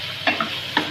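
Chicken pieces browning in a pot for shahi korma, a steady close sizzle with a few quick stirring scrapes and clatters breaking through it.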